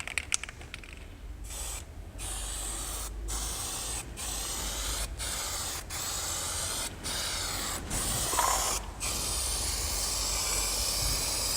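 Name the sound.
spray painting a car in light coats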